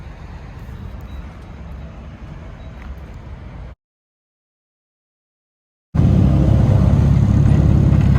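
A Nissan 350Z drift car drives along with a steady engine drone and road rumble from inside the cabin, cut by a couple of seconds of silence, then returning louder and heavier.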